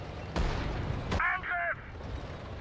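Gunfire from units in the real-time strategy game Sudden Strike 4, two loud sharp shots a moment apart over a rumbling battlefield bed, followed by a brief voice shouting in German.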